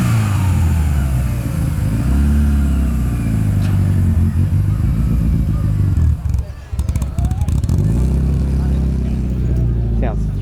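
A turbocharged Japanese car engine revs loudly and throatily at a busy outdoor car meet, droning steadily with a brief dip midway, while people talk nearby over the noise.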